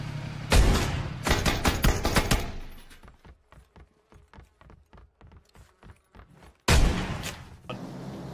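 Gunfire in PUBG Mobile, including a VSS rifle, comes as loud, dense bursts, then a run of evenly spaced, rapid single shots, before another heavy burst near the end.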